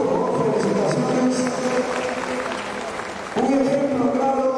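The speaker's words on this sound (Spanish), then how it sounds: "Fuerte los aplausos para el señor padre Bustillos, por favor." An audience at a regional Ayacucho song festival applauding in a steady wash of clapping, with an announcer's voice carrying over it.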